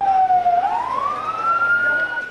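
A fire service vehicle siren wailing at a market fire in Karwan Bazar, Dhaka, a single loud, close tone dipping and then sweeping up steadily over a couple of seconds.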